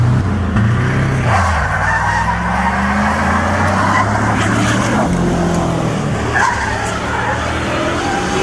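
Chevy Suburban front-wheel-drive burnout, loud sustained engine drone with rising and falling tones and squealing, scrubbing tires, close and continuous, with voices briefly over it.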